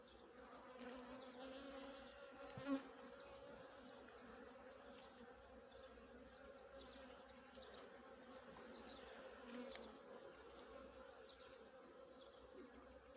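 Honeybees hum steadily around frames of capped and open brood at a spring hive on a cool 10-degree day, a soft continuous drone with a brief louder pass from a nearby bee.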